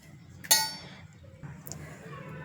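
A metal spoon strikes a cooking pot once, giving a single sharp, bright clink as tea powder goes into water heating on a gas stove. A faint softer tap follows over a low steady background hum.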